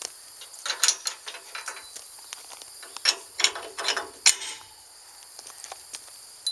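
Bolts and nuts on a trailer ball coupler hitch are tightened with a hand ratchet, giving quick, close, crisp clicking runs in irregular bursts with short pauses between.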